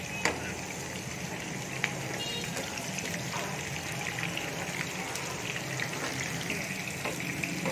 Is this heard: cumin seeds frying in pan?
yes